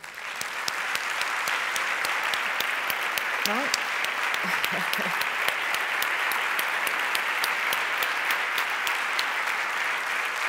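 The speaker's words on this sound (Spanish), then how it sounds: "un aplauso para él" Conference audience at the FPAJ 2019 health forum applauding an attendee, sustained crowd clapping, steady and full with sharp individual claps standing out, lasting the whole span with a few faint voices underneath.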